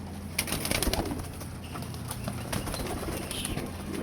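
Several pigeons coo in low, throaty bursts, close by, with occasional wing flutters and soft bumps among them.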